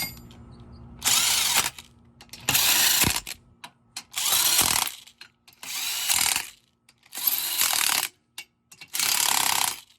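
An impact wrench fires six loud, close bursts of hammering rattles, each about a second long, separated by short pauses, as it drives the bolts of a 15mm bolt-on wheel spacer onto a car hub.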